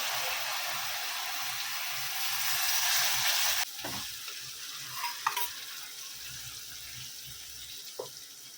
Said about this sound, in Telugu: ఈ టమాటాని పచ్చడిని బాగా దీంట్లో వేసి ఫ్రై చేసుకోవాలండి.